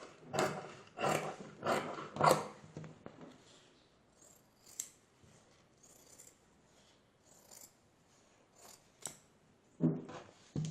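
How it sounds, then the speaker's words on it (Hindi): Scissors cut through stiff pattern paper for a shalwar bottom, making a quick run of several crisp snips close by, then sparse isolated clips and rustles, with a final pair of cuts near the end and no talk. "पहले हम इसको यहाँ से काट के इसको अलग कर लेते हैं।"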